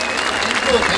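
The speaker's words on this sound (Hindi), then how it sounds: "एक बार जोरदार तालियां बजाइए" Brief burst of dense, steady audience applause at a Hindi comedy poetry gathering (hasya kavi sammelan), loud and close, with a voice speaking over the clapping.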